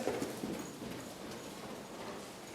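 Horse hooves clip-clop steadily over ground during a lunging session, a soft, even rhythm of repeated footfalls at moderate distance with a faint background hiss and no voices.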